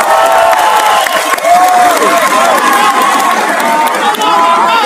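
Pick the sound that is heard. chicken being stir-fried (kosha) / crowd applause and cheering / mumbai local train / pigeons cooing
crowd applause and cheering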